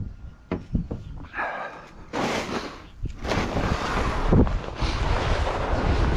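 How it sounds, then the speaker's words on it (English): Strong outdoor wind gusts roar and buffet the microphone during fall leaf cleanup, rising and falling in loud rushes with scattered thumps and rustles. "we got winds blowing hard to the west"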